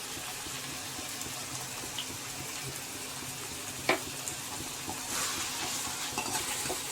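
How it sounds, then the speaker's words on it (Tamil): Chili powder is stirred into chicken curry in a pan. A steady, noisy sizzle runs throughout, with soft scraping from the stirring and one sharper clink near the middle. "மிளகாத்தூள்லாம் போட்டு கிண்டிட்டு தான் அதுக்கப்புறம் தண்ணி ஊற்றணும்"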